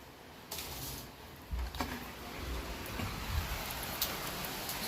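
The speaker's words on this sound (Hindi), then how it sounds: "बारिश हो रही है अभी काफ़ी" Heavy rain falls outside a balcony of a house in Kohima, Nagaland, a steady wash of hiss with scattered nearby drips and splashes, moderately faint and without talk.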